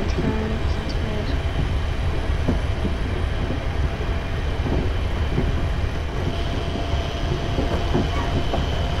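A Class 380 electric train in a railway simulator runs steadily on rails between Glasgow Central and Glasgow Airport, a loud continuous rumble with faint clickety-clack and no talking.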